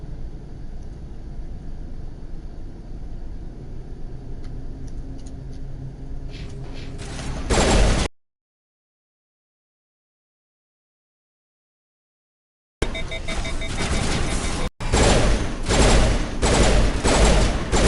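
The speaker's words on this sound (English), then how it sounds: "I'm shooting the salvos, I don't know why." Pistol fired in rapid salvos in Mass Effect Legendary Edition, dense bursts of loud gunfire filling the scene, breaking off into several seconds of silence before another run of shots resumes.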